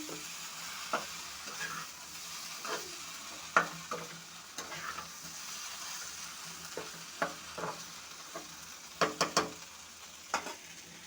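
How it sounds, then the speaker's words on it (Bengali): Okra and potatoes with green chilies fry in a pan, giving a soft steady sizzle broken by sharp intermittent scrapes and clicks as the mixture is stirred, close and moderately loud with no talking. "প্রায় ভাজা ভাজা হয়ে গেছে"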